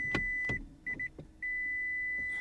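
A hybrid car's electronic beeper sounds in short repeated tones, then holds a long continuous beep, over a couple of soft clicks and thumps.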